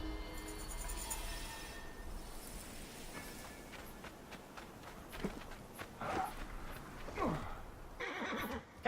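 A horse whinnies loudly in Assassin's Creed Origins, followed by hooves clip-clopping and footsteps on the ground with game ambience; no speech.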